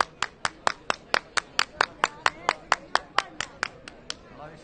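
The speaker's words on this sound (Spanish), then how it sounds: "Sí, señor, es un aplauso." Slow rhythmic hand clapping at a street protest in Murcia, about fifteen sharp, evenly spaced claps close by, loud at first and tapering off toward the end.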